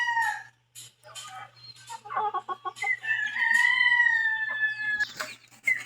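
Hens clucking and a rooster crowing close by on a backyard farm, short clucks giving way to a long drawn-out crow, with a steady low hum underneath.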